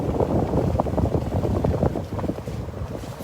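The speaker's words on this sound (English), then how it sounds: "It's very windy on the lake right now." Steady, rough wind over a lake buffets the microphone with a low rumbling roar, loud and continuous throughout, with no voices.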